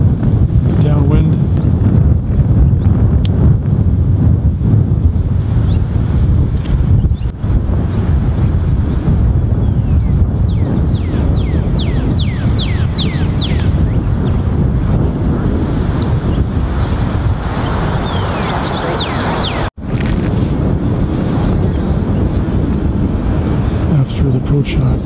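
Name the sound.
strong gale force wind on a golf course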